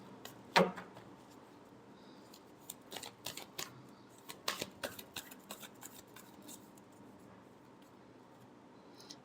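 Tarot cards being shuffled by hand in a quiet room, a soft papery riffle of quick crisp flicks and taps clustered in the middle, faint and close, with no talking.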